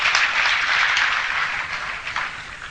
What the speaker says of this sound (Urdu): اس کی استقبال میں تالی بجا دیجیے اس کے لیے۔